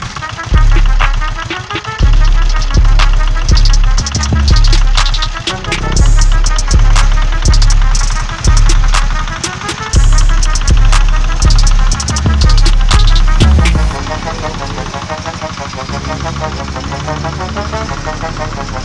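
A stuck vehicle's engine revving hard in repeated surges, wheels spinning and digging into the ground, loud and close, settling into a steadier drone near the end, with people talking over it.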